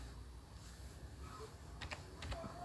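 Faint keystrokes on a computer keyboard as a file name is typed, a few quiet clicks near the end over a low, steady background hum.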